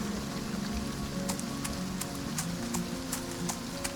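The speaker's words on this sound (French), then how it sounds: "En parlant d'eau, il pleut" Rain falling in the farming video game Farm Together, a steady hiss of drops with scattered sharper patters over a low ambient bed, no voices.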